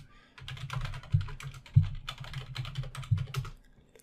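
Close, fast typing on a computer keyboard, with a dense run of clicky keystrokes and a few heavier thumps like the space bar, heard alone.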